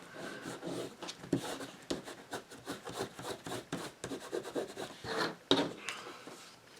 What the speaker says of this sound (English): This piece has a little edge there, which I'm just going to cut off